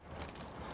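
Car keys for a 1997 Mitsubishi Diamante ES wagon jangling briefly and faintly, a quick metallic rattle with no one speaking.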